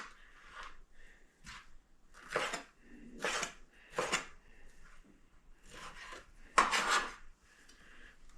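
A knife cubes deli ham on a board, making a series of close, sharp cuts and taps in an irregular rhythm, about eight strokes, with no speech.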